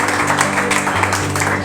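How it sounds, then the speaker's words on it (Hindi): Audience applause at a ghazal recital by Sagar Sahab Badauni: a steady, dense wash of clapping that runs the full length, with sustained musical tones beneath it. "एक बार आप अपने लिए तालियां बजा दीजिए"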